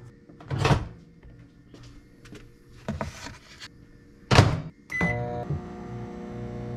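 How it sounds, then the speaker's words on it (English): A microwave oven heating a flour tortilla: clattering door and handling sounds with brief bursts, then a steady hum with a tonal whine from the running oven toward the end, nearby and moderately loud. "we're going to stick it in the microwave for 30 seconds"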